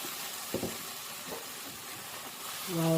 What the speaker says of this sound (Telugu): ఇప్పుడు మనం పాలకూరని గ్రైండ్ చేసుకున్న పాలకూరని ఇలా వేసి మొత్తం కలియపెడదాము